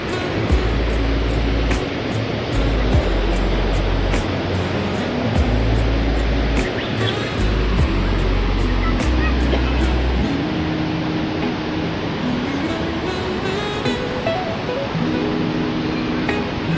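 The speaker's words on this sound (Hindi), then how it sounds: "क्या प्रवाह है इस झरने का।" A waterfall flows at Vashishtha temple in the hills near Guwahati, Assam, giving a loud, steady, close rush of falling water that holds unbroken throughout with no voices.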